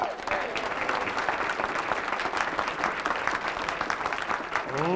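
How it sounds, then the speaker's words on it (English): Audience at a consumer auction show applauding steadily, a full, even patter of many hands that continues throughout, with a voice briefly audible at the very end. "I think you ought to applaud each and every one of these people"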